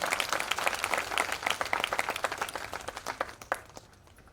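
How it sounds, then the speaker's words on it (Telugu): An audience at a Christian gathering claps hard on request, a brisk crackle of many hands building and then tapering off into quiet near the end, with no voices over it. "ఒకసారి గట్టిగా చప్పట్లు కొడతారా?"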